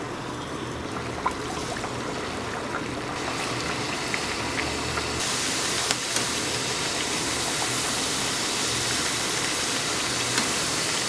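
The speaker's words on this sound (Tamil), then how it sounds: "எண்ணெய் சூடானதுக்கப்புறமா இந்த தட்டையை இந்த எண்ணெயில் போட்டுருங்க." Thattai snacks frying in a pan of hot oil, a steady broadband sizzle and bubbling that grows louder partway through as more dough goes in, with no talking.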